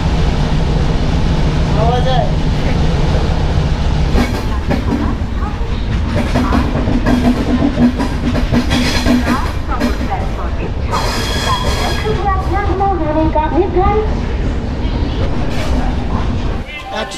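The Rupasi Bangla Express runs at around 135 km/h, its steady heavy roar and rumble from inside a carriage with rhythmic wheel clatter and brief squeals, loud and continuous, while voices talk faintly underneath.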